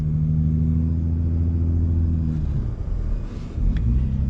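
A 2022 Ford Raptor truck's engine rumbles low and steady at crawling speed off-road, with a brief dip and a soft rise in revs near the end, close and with no talking.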